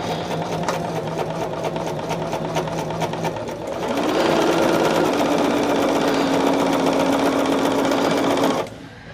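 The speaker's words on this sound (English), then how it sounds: "I am going to start sewing it up here at 1/4 inch." A sewing machine stitches a pinned quilt block at a quarter-inch seam, a loud steady mechanical whir of rapid needle strokes that shifts pitch partway through and stops abruptly near the end, with no talking.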